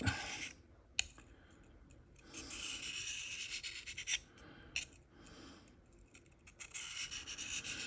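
A knife blade scrapes in reverse strokes across a Sharpal 1200 grit field sharpener, quiet raspy rubbing strokes with brief clicks between passes, no talk.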